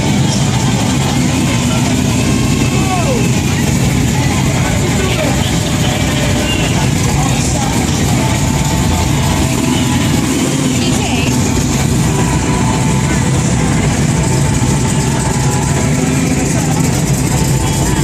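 Classic cars and pickup trucks idle and rumble at an Old Town car show in Kissimmee, a continuous low engine drone with passing vehicles amid crowd chatter.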